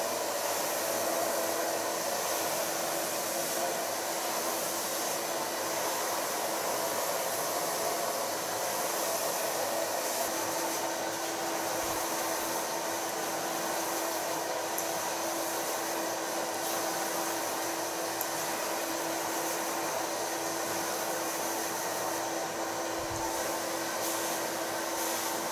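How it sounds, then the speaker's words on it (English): A hair dryer blows steadily and close while hair is blow-dried with a large round brush, a continuous airy roar that runs the whole time with only small shifts in tone as the brush moves. "I will blow dry it with the large brush"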